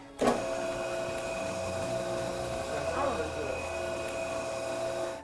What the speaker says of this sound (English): And into the mixer it goes for a few minutes.